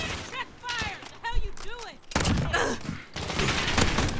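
AA-12 shotgun firing on automatic in Call of Duty Modern Warfare, loud rapid bursts of blasts with rattling mechanics, mixed with a voice speaking and whooping sounds at the start.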